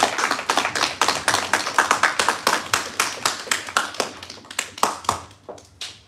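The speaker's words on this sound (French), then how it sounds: "je vais vous demander à nous tous de pouvoir l'applaudir de nouveau" An audience at a church conference breaks into sustained applause, dense and lively clapping that stays loud for several seconds before thinning into scattered claps at the end.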